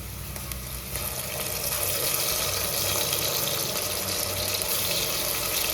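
Ginger garlic paste fries with onions in a pan, a dense, loud, continuous sizzle and hiss that swells slightly after the first second and holds steady.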